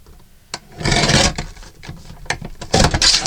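Cardboard spine being pulled and torn away from a journal, giving rough scraping and ripping bursts in uneven pulls, close and fairly loud with no talking.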